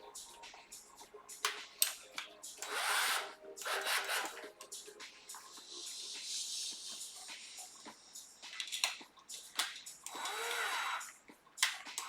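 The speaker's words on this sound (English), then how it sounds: "More drilling." A power drill whirs in repeated short bursts during a beer brewday, rising and falling with scraping, rubbing handling noises between runs, close and fairly loud, no talking.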